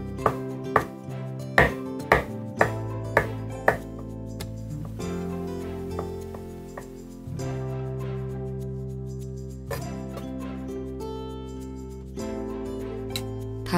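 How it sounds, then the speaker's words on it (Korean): A knife finely chopping onion, carrot and button mushrooms on a board, a burst of crisp evenly spaced chops early on, then quieter scattered taps under steady background music. "양파, 당근, 양송이 버섯은 잘게 다집니다."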